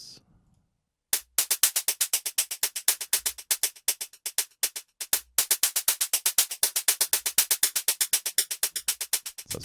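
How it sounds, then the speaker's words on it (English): Short bursts of white noise from a sound design patch in UJAM Symphonic Elements percussion, fired in a fast, steady rhythmic stream of crisp, loud hits after a brief near-silent opening. "So that's white noise short."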